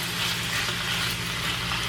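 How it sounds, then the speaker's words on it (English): Beef seasoned only with black pepper sears in a hot pan, giving a loud, steady, close sizzle with no pauses and no voices. "And this is going to sear out really fast."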